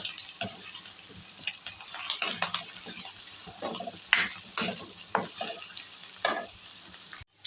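Green chillies fry in oil in a pan for a prawn starter, a crackling sizzle broken by irregular spatters and stirring clinks, close and fairly loud with no one speaking.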